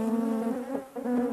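Honey bees buzz at a royal jelly bee farm, a steady, close, droning hum with a clear pitch that wavers slightly, with no talking.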